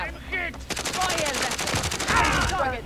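Rapid automatic gunfire in Call of Duty: Modern Warfare (2019), a dense sustained burst of shots with voices and game sounds mixed underneath.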